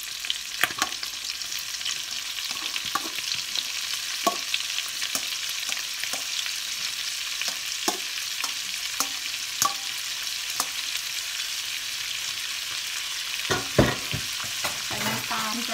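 Bean sprouts being stir-fried in a pan with onion, a steady low sizzle broken by scattered clicks and scrapes of a utensil stirring, busiest toward the end.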